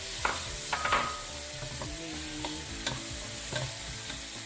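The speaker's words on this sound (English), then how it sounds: "what's the trick about doing the ground beef is that you want to cook it extra crispy" Ground beef frying extra crispy in a hot pan, a steady close sizzle with occasional scraping stirs and utensil clicks, no talking.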